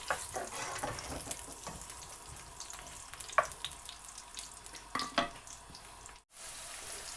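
Potatoes shallow frying in a pan for dum aloo give a quiet, steady sizzle and crackle, with a few brief clinks and stirring scrapes along the way.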